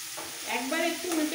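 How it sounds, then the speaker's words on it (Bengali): Paneer pieces sizzle in oil in a kadai as they are stirred and tossed, a steady soft frying hiss with light scraping, close and continuous. "একবার একটু উল্টে পাল্টে নিয়ে সঙ্গে সঙ্গে তুলে নেব।"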